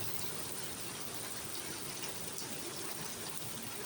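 Rain from Typhoon Uwan begins to fall in a steady, dense hiss that stays close and even throughout, with no voices.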